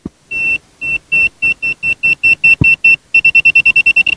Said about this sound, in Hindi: तो इसकी जो बीप की फ्रीक्वेंसी है ये बीप करता है